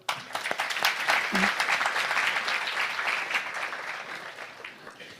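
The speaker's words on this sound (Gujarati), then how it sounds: "તાળીથી વધાવો" An audience at a spiritual discourse breaks into sustained clapping, a dense crowd applause that starts abruptly and slowly tapers over several seconds.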